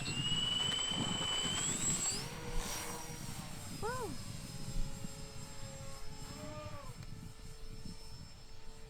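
A Dynam C-47 Skytrain RC model plane flies over a field, its propeller engine droning steadily at a distance, with a high electric whine rising and shifting in pitch as it passes.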